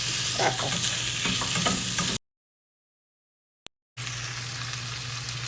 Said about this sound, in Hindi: मैंने जो है चिकन को अब फ्राई कर लिया है, स्टेयर फ्राई किया है।